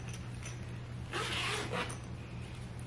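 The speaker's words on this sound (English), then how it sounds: "I think the zipper's loose." Zipper on a bag, a loose zipper being pulled during packing for a trip, heard as one rasping burst of about a second over steady background hum, with no talking.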